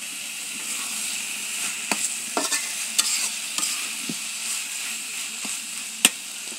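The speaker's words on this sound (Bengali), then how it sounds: "এখন আমি একটু নেড়ে চেড়ে নিব।" Onion, garlic and dried chili fish frying in a pan give a steady close sizzle, with several sharp scrapes and clacks of a stirring spoon scattered through it. No one speaks.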